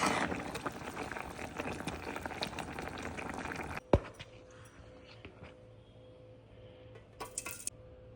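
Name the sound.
chana dal (split chickpeas) boiling in a pot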